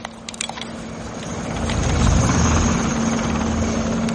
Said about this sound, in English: So we hear a helicopter coming.